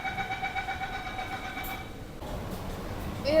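An underground metro train in a Mumbai tunnel gives a steady rumble with a sustained whine, dropping to a deeper, fuller roar partway through as speed rises, close and continuous.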